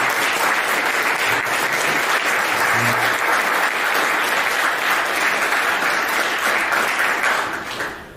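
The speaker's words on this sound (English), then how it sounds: "Let's give a round of applause for Greg Brown." Sustained, loud audience applause fills a university tribute event honoring Pittsburgh broadcaster Myron Cope, steady dense clapping throughout that begins to fade in the final second.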